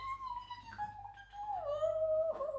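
A dog whimpers and whines in eager, rising and falling cries, close and fairly quiet, wanting to play with a treat maze at home.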